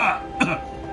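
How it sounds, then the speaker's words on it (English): A single deep cough from a man, short and throaty, breaking out abruptly and close to the microphone amid quiet background sound. "sorry, deep cough"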